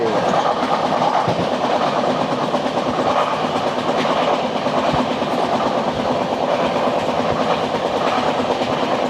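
The 13152 Kolkata Express runs on its rails with a loud, steady rumble and continuous clickety-clack of the wagons, heard up close from inside and without a break.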